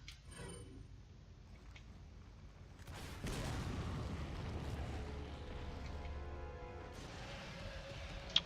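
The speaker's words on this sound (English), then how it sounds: "rockets are pretty cool and you can shoot through things" A rocket launcher fired in Resident Evil 4 HD, a sudden heavy blast erupting after a quieter stretch and rolling into a long, dense rumble that keeps sounding for several seconds.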